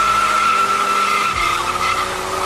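Tires of a Mazda Miata squeal and skid during parking-lot 360s, a loud continuous screech with a steady high whine and engine rumble underneath.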